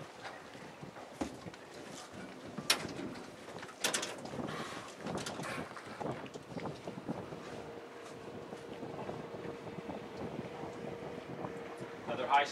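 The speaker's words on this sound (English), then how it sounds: "Another high speed boat coming." A high-speed motorboat drones past amid gusty wind buffeting the microphone off Cape Coral, Florida, its engine tone steady and moderately distant.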